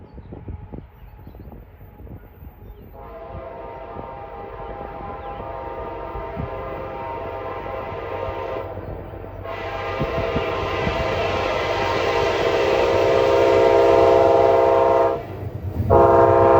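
An eastbound CSX freight train approaches a Mohawk Valley grade crossing with the gates down, sounding long horn blasts that grow louder, one after another, over a deepening rumble of the passing train.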